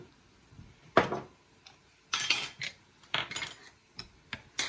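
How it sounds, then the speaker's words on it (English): A spoon clanks and scrapes against a pot while basil and Italian seasoning are stirred into spaghetti sauce, several sharp, close metallic bursts separated by brief quiet, with no speech. "I'm going to stir all that together"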